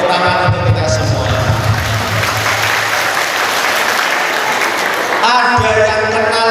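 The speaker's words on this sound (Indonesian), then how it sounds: "Oke, tepuk tangan untuk kita semua." Audience applause at a religious gathering in a high school hall, a dense steady wash of many hands clapping, loud and close throughout, with a voice and music faintly underneath near the end.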